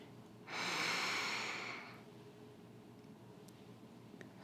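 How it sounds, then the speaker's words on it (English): A single deliberate in-breath, a breathy airy hiss that rises sharply and fades over about a second and a half, close and fairly quiet, followed by faint room tone. "Breathing in."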